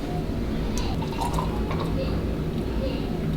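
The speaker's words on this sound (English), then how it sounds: "So I'm gonna fill the rest of these jars up" Thick prickly pear cactus jelly pours and drips into glass jars, with soft liquid gurgles and small splashes over a steady background hum, the filling continuing at close range.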